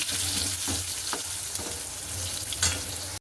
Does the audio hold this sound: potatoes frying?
yes